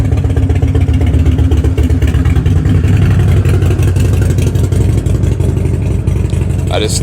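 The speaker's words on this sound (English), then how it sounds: "We'll give this a second to go by. Loud motorcycle." Loud, throbbing motorcycle engine rumbling close by, steady roar that slowly shifts as it passes, with faint voices underneath.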